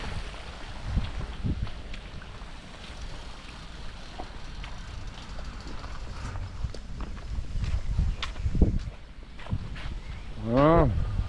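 Small Shetland pony hooves clip-clop irregularly on the ground at an exotic pet farm in Khon Kaen, faint and close, with scattered handling noises and a short animal call near the end.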